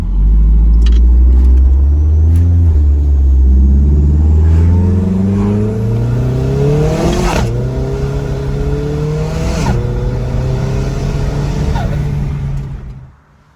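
A 2005 Audi TT with a 1.8-litre turbocharged engine, converted to a DQ500 DSG automatic gearbox, runs loud and close, revving up through rising pitches, easing off and climbing again before cutting out.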